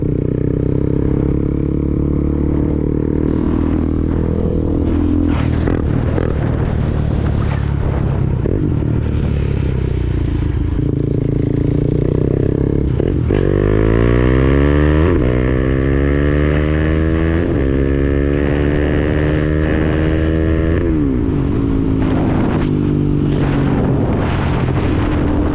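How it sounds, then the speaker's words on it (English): A KTM Duke 390 single-cylinder engine revs hard at full throttle while riding, its loud droning note climbing through the gears with shifts and dips, backed by heavy wind rush on the microphone. "That is the KTM 390 wide open."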